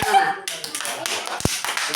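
One sharp hand clap from the 'tepuk nyamuk' clapping game lands near the end, amid softer tapping and a voice speaking throughout.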